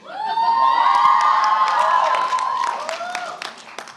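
Graduation audience cheering and applauding, loud whoops and shouts rising over clapping from a large crowd, with voices and a sustained cheer fading near the end.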